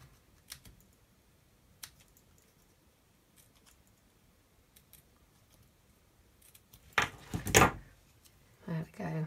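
Scissors snip into curled card for a Z-fold stand card, a few crisp cuts in quick succession near the end after scattered faint clicks and handling noises, close up, with a voice speaking nearby.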